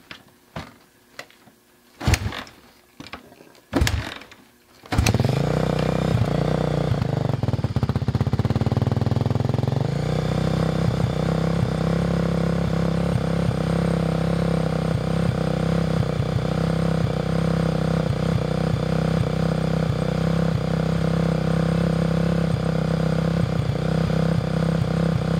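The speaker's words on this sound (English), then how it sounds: "I'm gonna fire the bike up real quick so you can hear it running" A motorcycle is cranked with several sharp bursts before the engine catches, then settles into a steady, loud, rumbling idle close by, running continuously with slight fluctuations.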